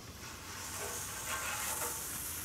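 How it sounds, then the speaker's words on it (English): Lightly oiled turkey burgers hit an oiled outdoor grill grate, giving a steady, soft hiss of sizzling that fills the clip without speech. "You should hear a sizzle immediately."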